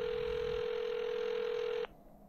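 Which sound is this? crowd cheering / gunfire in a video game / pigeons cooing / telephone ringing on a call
telephone ringing on a call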